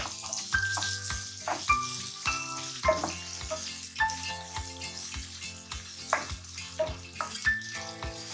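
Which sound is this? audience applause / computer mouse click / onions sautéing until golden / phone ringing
onions sautéing until golden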